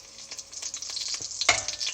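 Seeds fry in hot refined oil for tomato chutney, crackling and sizzling close up with a steady hiss and scattered pops, one sharper burst of spattering partway through.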